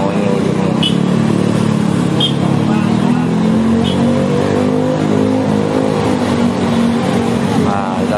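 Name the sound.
heavy vehicle traffic at a diverted road during a protest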